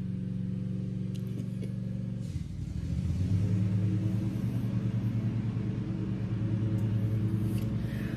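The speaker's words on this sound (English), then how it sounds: "My neighbor likes to ride around on his tractor." Tractor engine droning steadily at a distance, its low hum shifting pitch as the machine is driven around, quiet and with no talking.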